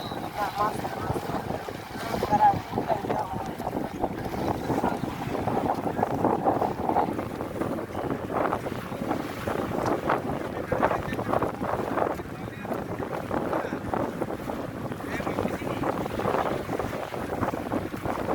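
Strong wind buffets the microphone in a continuous rushing roar, with a faint voice and a boat's hum underneath.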